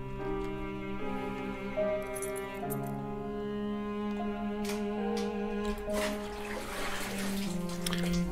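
Water running from a tap in the video game Homesick, a continuous filling splash over sustained tonal game music with occasional small clinks.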